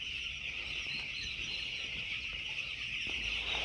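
Poultry-farm chickens spread out and feeding in mild, warm weather make a dense, continuous flock chatter of clucks and calls, with occasional wing flaps, nearby and alone.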